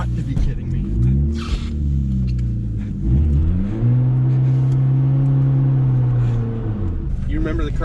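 A manual-transmission car during a driving lesson revs and lugs unevenly, its engine note rising and dipping before bogging down and stalling, close and loud, with people talking over it.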